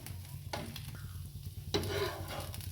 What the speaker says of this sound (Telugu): ఇంకో వైపు కూడా ఈ విధంగా కాల్చుకొని ఇప్పుడు తీసేసుకోవటమే